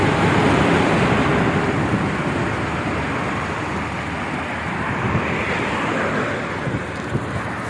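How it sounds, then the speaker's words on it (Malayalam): Traffic passing along a village road in Kollengode, Palakkad, a continuous broad rumble of vehicles with steady road and wind noise, no distinct single pass-by standing out. "നമ്മുടെ വണ്ടികൾ ഓരോന്ന് ഓരോന്നായിട്ട് വരുന്നുണ്ട്"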